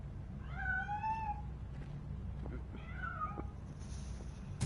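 Meowing of a cat in a video game: two drawn-out, wavering meows a couple of seconds apart, moderately clear over a low steady background hum.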